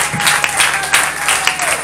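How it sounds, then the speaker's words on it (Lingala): A church congregation bursts into loud, sustained applause during a sermon, many hands clapping densely and close, with a faint voice or tone running beneath. "acclamons pour le Seigneur"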